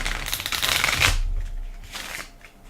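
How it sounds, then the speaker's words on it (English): A deck of game cards riffled and bridged by hand at a tabletop, a close, dense rustling burst for about a second followed by a softer second shuffle, with no talk. "I'll just reshuffle all these."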